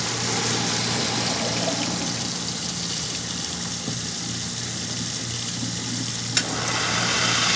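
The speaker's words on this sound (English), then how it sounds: "run some cold water over the top of it" Cold water runs from a tap over the lid of a hot pressure cooker, a loud, steady rushing splash that carries on unbroken, with one brief clink near the end.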